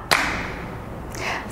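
A single sharp hand clap rings out near the start, close and fairly loud, followed by a faint voice.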